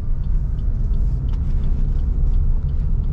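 A manual-transmission car pulls away from a traffic light as the clutch is released, on a regional road near Kudus; a steady, close low engine rumble holds throughout with no talking.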